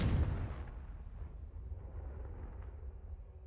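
A booming blast spell from a Harry Potter video game hits at the start, loud and deep, then rumbles away into a long fading low tail with no voices.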